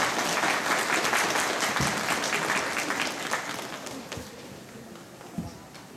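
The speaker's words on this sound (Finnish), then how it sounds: "annetaan vielä aplodit näille kahdelle suosikille" Sustained applause from an audience at an open-house event, dense and steady at first, then thinning and fading toward the end with a few scattered claps.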